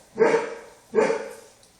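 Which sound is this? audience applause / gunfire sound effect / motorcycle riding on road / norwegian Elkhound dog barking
norwegian Elkhound dog barking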